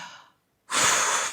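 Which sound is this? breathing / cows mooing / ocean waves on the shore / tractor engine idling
breathing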